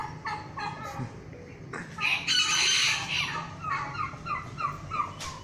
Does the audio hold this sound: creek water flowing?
no